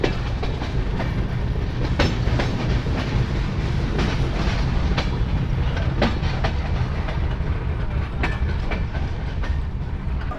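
The Sagardari Express intercity train pulls into Abdulpur Junction after running from Rajshahi, giving a steady, loud rolling rumble with rhythmic clickety-clack of wheels over rail joints throughout.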